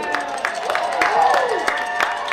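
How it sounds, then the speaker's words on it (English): A high school football crowd applauds for the Leicester and Grafton cheerleaders, scattered clapping and cheering from the stands heard at a distance, steady and moderate, with voices mixed in. "Give a round of applause to the Leicester and Grafton High School cheerleaders."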